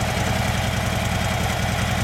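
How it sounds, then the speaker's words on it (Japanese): Harley-Davidson Dyna Low Rider FXDL with a one-off custom muffler idling nearby, a steady, loud, lumpy low rumble with an even pulsing beat and no talk over it. "エンジンを聞かせてください。"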